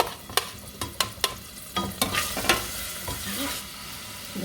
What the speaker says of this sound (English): I'm going to saute these up until they are somewhat soft.